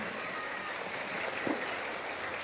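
Elementary schoolchildren applaud together during a Ramadan religious outreach visit to their school: a faint, steady, distant patter of many small hands, with no clear voice over it.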